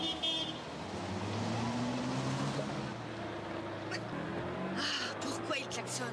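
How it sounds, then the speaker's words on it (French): Car horns toot in short bursts near the end over steady traffic rumble, with a brief honk at the start, moderately distant. "Ah, pourquoi ils klaxonnent?"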